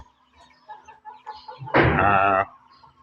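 Chickens in a chicken shed on a rainy morning: faint soft clucking at first, then a loud, close, drawn-out rooster-like squawk lasting under a second before it fades back to quiet clucks.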